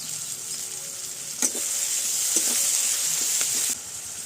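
Crushed garlic, chopped onion, tomato and salt fry in hot oil with a steady, loud sizzle, broken by a few brief stirring scrapes, and no voices over it.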